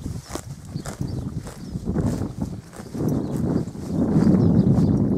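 A six-year-old Quarter Horse stallion walks nearby, its hooves clip-clopping in an uneven, steady rhythm at moderate loudness, with a low rumble building toward the end.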